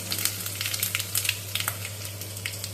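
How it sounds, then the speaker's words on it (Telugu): Thin-sliced ginger pieces frying in a pan with mustard seeds and urad dal, a soft continuous crackle with scattered small pops, close and moderately quiet over a low steady hum. "జింజర్ చక్కగా బాగా వేగాలండి."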